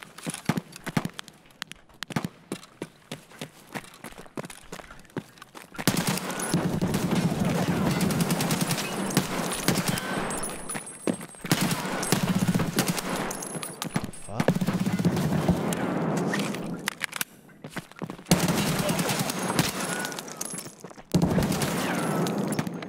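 Escape From Tarkov gunfire cracks out in rapid automatic bursts, loud and close, after a stretch of quieter scattered shots and footsteps.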